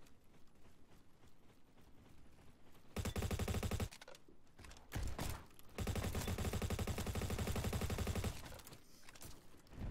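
Sustained automatic gunfire from the Roblox shooter Bad Business comes in long rapid bursts with short gaps between them. The firing is loud and sharp over a low background.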